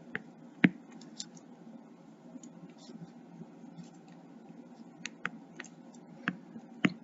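Fingers tap numbers into a calculator in scattered, light clicks, with a few sharper presses standing out over a quiet background hum.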